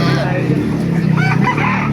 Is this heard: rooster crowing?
yes